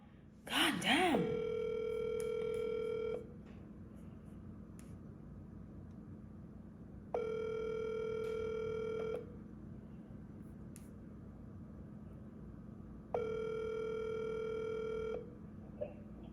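Ringback tone from a phone call to a sister: three steady electronic ring bursts, each about two seconds long and separated by longer gaps, over a low background hum, with a brief voice right at the start.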